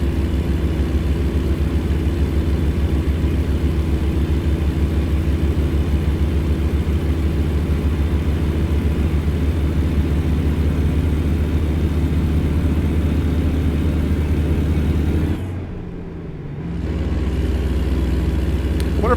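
A Kenworth W900 truck engine in American Truck Simulator drones steadily at a constant pitch, dipping briefly near the end as if the throttle lifts, then returning.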